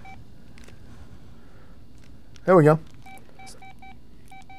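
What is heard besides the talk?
mobile phone button beeps while silencing it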